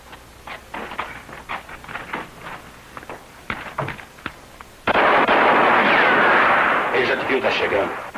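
Gunfire in a 1971 western film: scattered shots and footsteps pop irregularly, then a loud, sustained roar of rapid firing takes over, and voices speak in Portuguese dubbing.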